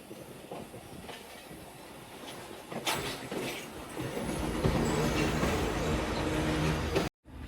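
A passenger train on a Pakistani line rumbles into a small station stop, wheels clacking and brakes faintly squealing as the sound swells louder and nearer, steady and continuous before cutting off abruptly near the end.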